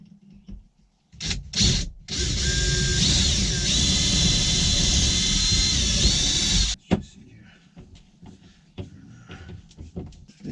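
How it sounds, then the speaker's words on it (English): A power drill boring pilot holes into plywood while childproofing an Airstream bunk bed, with two brief bursts and then one long steady whine of about five seconds that ends abruptly, followed by faint handling noise. "So start with just drill some pilot holes and try not to drill through the bottom of the plywood."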